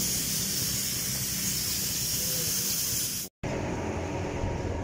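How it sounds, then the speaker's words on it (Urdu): Steady, loud hissing spray of a diesel and engine-oil mix onto a freshly serviced motorbike in a village repair shop. It runs continuously and breaks off briefly near the end before resuming. "سروس کرنے کے بعد ڈیزل کا اسپرے دے رہے ہیں موبائل اور ڈیزل مکس کر کے اسپرے دے رہے ہیں"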